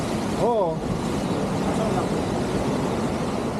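Steady broadband roar of rough sea waves fills the whole clip, with a brief whistling tone near the start.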